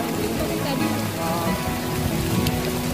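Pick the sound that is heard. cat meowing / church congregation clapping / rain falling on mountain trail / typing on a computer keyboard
rain falling on mountain trail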